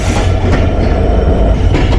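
A Panchagarh Express train hauled by a 66-series EMD diesel locomotive of Bangladesh Railway enters a station at night, with a loud, close, continuous rumble and rattle of wheels and cars.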